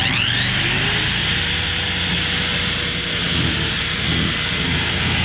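A power cutter slices through a 2-inch Ridgid foam insulation board with a loud, steady whining drone that holds a high pitch from start to finish, close and unbroken.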